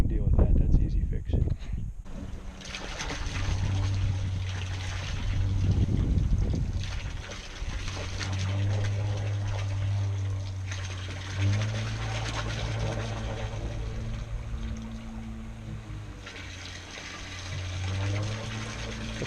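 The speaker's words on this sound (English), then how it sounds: "the water falling down right on top of the pump is causing the pump to cavitate" Water falling straight onto a cavitating pump in a home water heater plumbing setup, giving a continuous loud splashing rush over a steady low pump drone, with a burst of noise at the start.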